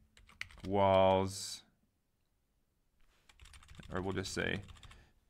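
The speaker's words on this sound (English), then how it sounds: "we're going to start typing in some text" Intermittent clicking of keys as text is typed on a computer keyboard, soft and close, running under a person talking.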